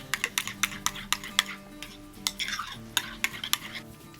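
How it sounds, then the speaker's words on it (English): A utensil stirs hot sauce into a brine for dill pickle brined chicken wings, giving a series of close, rhythmic scraping clinks against the bowl at a steady pace. "And then we're just going to mix all this together."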